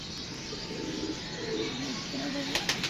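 Pigeons coo softly in low, rounded notes against a steady background hum, with a voice talking alongside them and a couple of sharp taps near the end.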